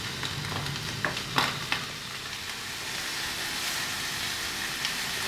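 A thin beef steak fries in a pan, cooked to medium, with a loud, steady, close-up sizzle and a few sharper pops early on.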